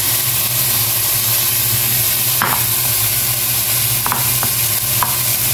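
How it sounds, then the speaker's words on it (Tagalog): Tomatoes being stirred in a hot cooking pan, a steady close sizzle and frying hiss throughout with a few sharp utensil scrapes and clicks near the end. "Haluin, halo-halo"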